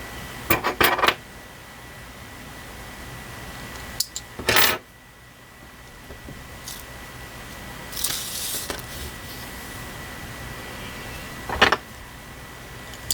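Scissors snipping through embroidery thread to cut lengths for a tassel, a few short crisp cuts spaced apart, close and fairly quiet, no talking.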